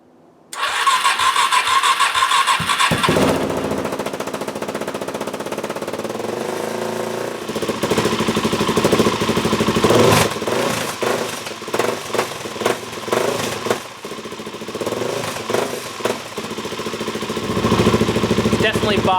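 A Suzuki DRZ400S motorcycle with a boggy, not fully fixed engine cranks on the starter for a few seconds, then fires up loud and close, idling roughly with uneven blips and throttle revs.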